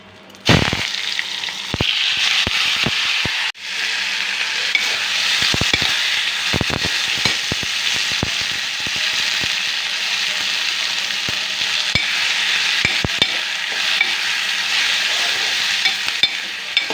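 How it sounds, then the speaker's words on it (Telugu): Whole spices tempering in hot oil for raw mango rasam crackle and sizzle steadily up close, with sharp popping clicks and stirring scrapes scattered throughout, no voices. "నేను చారుకి పోపు చేసుకుంటున్నా"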